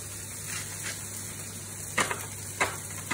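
Prawn fried rice cooking in a pan gives a steady soft sizzle, broken near the end by two sharp scraping stirs.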